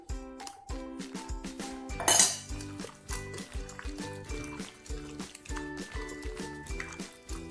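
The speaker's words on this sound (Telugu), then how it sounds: "పచ్చి మసాలా వేసి కలుపుకోవాలండి" Chicken for green biryani being mixed with ground green masala, with repeated metallic clinks and scrapes of a spoon against a steel vessel in a steady rhythm, close and moderately quiet.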